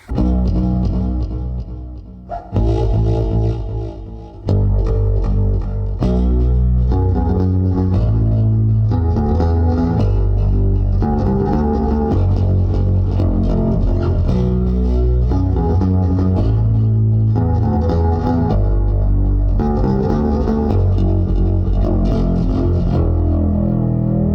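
Bass guitar played through chorus, delay and reverb effects, a continuous line of notes with a brief dip near the start, loud and alone with no voices.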